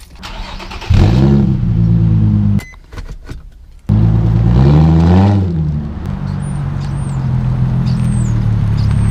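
A car with a modified, louder exhaust revs hard twice, with a short pause between bursts, then settles into a loud, steady idle that runs to the end.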